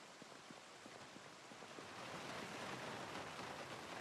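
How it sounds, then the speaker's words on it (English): Steady rain hisses continuously in the video game Project Zomboid, swelling slightly louder halfway through, with no voices. "It is raining."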